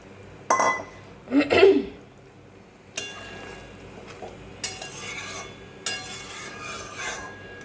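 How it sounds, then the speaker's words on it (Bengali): Pieces of fried eggplant and hilsa fish go into a thick, simmering mustard curry, giving a few separate soft splashes and clatters over a low, steady bubbling and stirring background. "আমি এখন এখানে ভেজে রাখা বেগুন আর মাছগুলো দিয়ে দেব"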